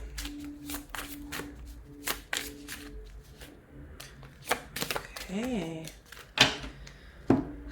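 Astrology cards are shuffled in repeated riffling bursts and soft slaps, close and crisp, while someone talks over them in a murmuring voice throughout.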